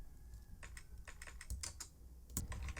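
Typing on a computer keyboard, a quick irregular run of crisp key clicks and taps, close and fairly quiet, with no talk.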